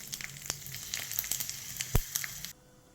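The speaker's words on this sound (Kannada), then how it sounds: "ಈಗ ಹುಳಿಗೆ ಒಂದು ಒಗ್ಗರಣೆ ಕೊಡುವ. ಅರ್ಧ ಚಮಚ ಸಾಸಿವೆ ಹಾಕಿಕೊಳ್ಳಿ." Mustard seeds and dry red chilies sizzle in hot tempering oil for a coconut sambar, a soft steady hiss dotted with sharp pops and crackles, close and fairly quiet, then cutting off abruptly near the end.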